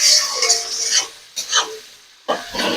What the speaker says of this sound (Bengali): দিয়ে মশলাটি ভালোভাবে ঘুটে দেবো